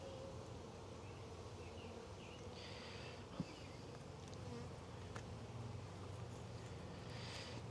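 Swarm honeybees in a hive give off a steady, faint, dense hum that runs without a break, with a few tiny clicks and no voices.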